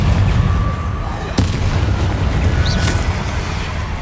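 A Confringo fire spell blast from the Hogwarts Legacy video game, a heavy rumbling explosion that fills the whole span with dense low roar and a sharper crack partway through.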